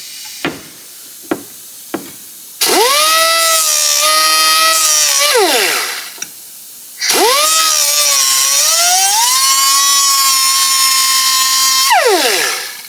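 Power tool cutting through an aluminum bracket for a Jeep Cherokee: a few sharp taps, then two long, loud whining runs that sag and recover in pitch under load, each winding down as it stops.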